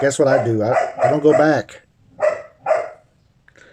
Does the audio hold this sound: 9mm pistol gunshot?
no